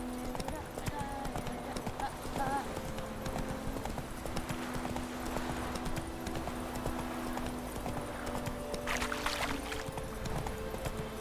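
Roach the horse trots along in The Witcher 2, hooves clip-clopping in a quick, steady rhythm under game music and effects, with someone talking over it throughout.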